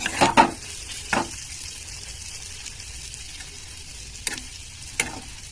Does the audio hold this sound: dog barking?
no